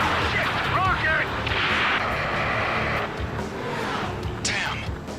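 Rocket attack explosions in the Ace Combat 7 video game, with heavy booming blasts and rushing, whistling projectile sounds over a loud rumbling battle background, with voices talking over the action.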